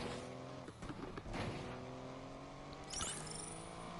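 Car engine racing in Need For Speed Unbound, an A plus tier car in a video game race, with a steady droning engine note, a louder swelling rush midway and a sharp whoosh near the end.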